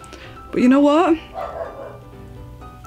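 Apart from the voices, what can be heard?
dog barking in the background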